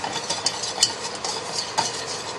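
Flour being worked into hot beef pot roast drippings in a pan, giving a steady soft scraping and faint sizzle with a few brief utensil clicks against the pan, close and moderately quiet.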